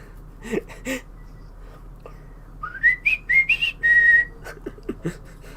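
A person whistles a short, rising tune in a few quick notes, ending on a held tone, preceded by some muffled breathy noises.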